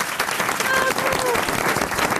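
Dense applause from a studio audience at the French radio show Les Grosses Têtes, steady and loud throughout, with a brief voice carrying over it.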